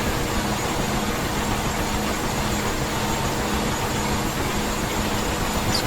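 Turbine whine and rotor drone of a Huey helicopter in the DCS flight simulator, a steady, loud, unbroken engine roar that holds for the whole stretch with no voices.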